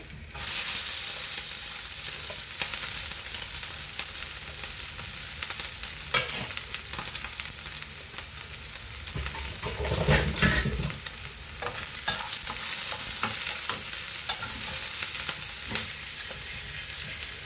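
Green chillies, onions and curry leaves fry in a pan as tempering for an egg masala curry, giving a steady close sizzle with a few spatula scrapes and a louder burst partway through.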